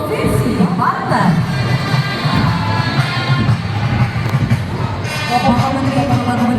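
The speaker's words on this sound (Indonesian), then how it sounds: "Berikan tepuk tangan untuk Provinsi Banten." A large crowd cheers and applauds throughout as a provincial delegation from Banten parades at the opening ceremony of an Islamic Quran recitation festival (MTQ) in Sumatra, a dense, continuous roar with voices mixed in.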